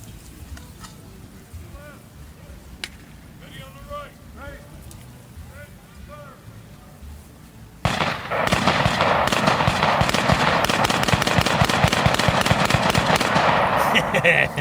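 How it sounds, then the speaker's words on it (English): An M1 carbine rifle fires in a rapid string of loud, sharp reports at an outdoor battle reenactment, starting abruptly and continuing densely to the end after a stretch of quieter background voices. "So I give you the carbine, M1 carbine."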